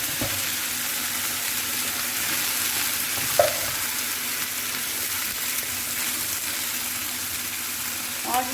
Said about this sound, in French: Nos oignons commencent à colorer tout doucement. On va y verser notre boîte de pulpe de tomate.